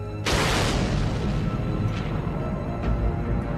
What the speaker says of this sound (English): A horrendous explosion in the sky.